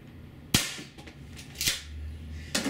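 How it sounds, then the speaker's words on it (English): An APS CAM870 CO2 airsoft shotgun running on an 88g CO2 cartridge fires 0.68-caliber rubber shells. Three sharp, close, loud shots crack about a second apart, each followed by a brief hiss and mechanical rattle. "the shotgun is getting louder and louder somehow"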